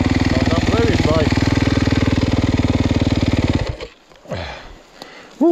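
A Yamaha YZ250FX dirt bike engine idles loud and close in a steady throbbing pulse for about three and a half seconds, then cuts out abruptly while voices talk over it.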